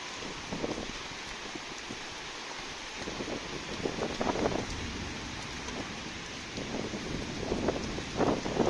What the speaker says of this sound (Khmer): ខ្យល់ខ្លាំងណាស់នេះ